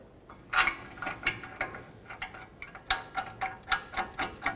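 Ratchet tightening the rear brake caliper bracket bolts on a 2008-2010 Ford F-250, a close, steady run of sharp clicking strokes in quick bursts with brief pauses, no talk.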